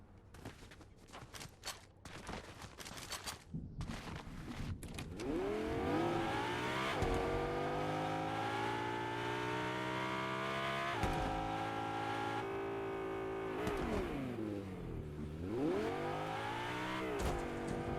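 Car driving and revving in the video game Fortnite, a steady engine drone rising and falling in pitch with gear changes, loud and continuous, after a brief burst of sharp gunfire-like cracks at the start.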